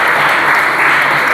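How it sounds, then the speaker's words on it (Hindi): Loud applause from an audience at a coaching academy results gathering, a brief dense burst of clapping filling the whole moment. "एक बार पुनः जोरदार ताली हो जानी चाहिए इस बात के लिए"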